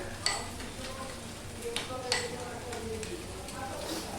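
A spoon scrapes and stirs cashews and raisins in a kadai during preparation of potol malaikari, faint clinks and light sizzling under a quiet room hush, with a few sharper metallic taps.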